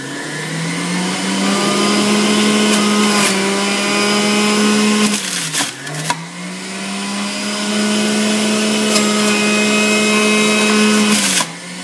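A juicer grinds garlic cloves for a savory juice, its motor whining steadily and loud, briefly dipping in pitch midway as the cloves load it, then resuming a sustained hum.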